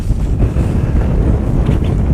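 Strong wind buffets the microphone outdoors during a fishing outing, a loud, continuous low rumble with gusty fluctuations and a faint hint of water nearby.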